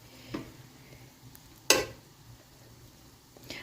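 A spoon stirs beef yakhni pulao in a pot, giving a few soft scrapes and clinks with one sharper scrape of metal partway through, close and fairly quiet.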